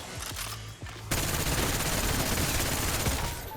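FFAR assault rifle in Black Ops 6 Zombies: after a few short bursts, a sustained very rapid automatic volley roars loud and continuous for over two seconds, with no one talking.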